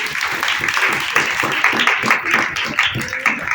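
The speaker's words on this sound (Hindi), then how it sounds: "दोबारा ताली बजाओ अपने दीदी की" A church congregation claps for a sister in a sustained round of dense, lively applause that carries on without a break.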